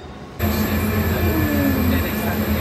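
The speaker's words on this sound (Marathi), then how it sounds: "एअरपोर्टमधली ट्रेन आहे बाळा" Dubai airport metro train running close by, a loud steady rumble with humming tones and a rising wheel whine, starting abruptly after a short quiet moment.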